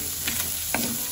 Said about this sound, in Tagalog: At ngayon naman ay nagpiprito din po ako ng ham.